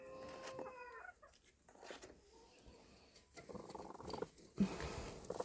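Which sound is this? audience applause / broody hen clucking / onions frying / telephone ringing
broody hen clucking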